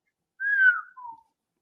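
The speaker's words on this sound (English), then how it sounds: "Why'd you whistle?" A person gives a short two-note whistle, a rising-falling tone followed by a lower, quieter note, alone in quiet surroundings.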